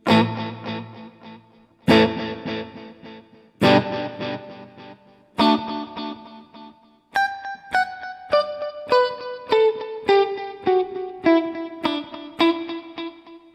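Guitar chords and then single notes played through a NUX Mighty Air wireless stereo practice amp repeat with a ping pong delay, each strike trailing echoes that alternate and fade, close and clear, with no talking.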